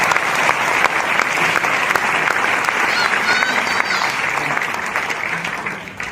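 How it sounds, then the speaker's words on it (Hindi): Loud, sustained applause from an audience at a gathering, a dense wash of many hands clapping steadily throughout before easing slightly near the end, with faint voices mixed in. "एक बार जोरदार ताली उनके नाम पे देखते हैं।"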